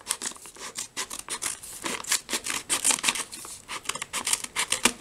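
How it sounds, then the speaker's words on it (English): Scissors cut open a foil-lined Canadian IMP ration pouch, giving a rapid series of close crisp snips and crinkly tearing of the packaging in an uneven rhythm. "I'm just going to cut it. I'm going to use scissors for that."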